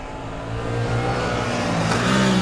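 Suzuki GSX-8R inline twin motorcycle engine running steadily nearby, a deep throbbing drone that builds slightly in revs, alone without talk.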